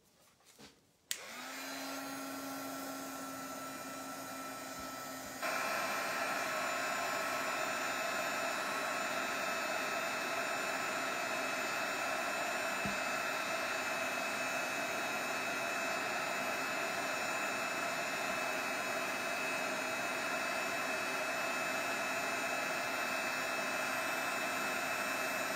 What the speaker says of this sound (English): I'm just going to give that a quick dry. Let's see if I can't dry that 3D gel